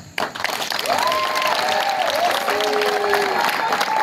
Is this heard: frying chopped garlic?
no